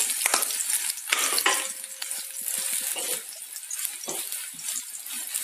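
Onions frying in a pan until golden brown for an Indian broccoli sabzi, a steady close sizzle with stirring scrapes and clatter, alone without talk.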